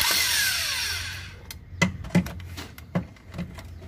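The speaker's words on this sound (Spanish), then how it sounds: "Igual acá vamos a quitar el tornillo." Metal tool work on a car engine mount as a bolt is removed, with a long whirring sweep fading early and then a series of sharp clanks and ratchet-like clicks, close and moderately loud.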